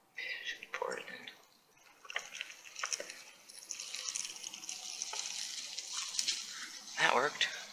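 Water trickles and splashes as it is poured, with intermittent gurgling bursts and faint clinks over a few seconds.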